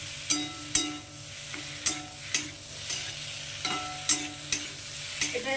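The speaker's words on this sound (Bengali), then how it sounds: "এবার এটা মশলাটার সঙ্গে আলুটাকে একটু কষিয়ে নেব।" Boiled potatoes stir-fried with spice paste in a pan for a bitter gourd curry: a steady sizzle broken by regular scraping knocks of a spatula, close and rhythmic, roughly one stroke every half second.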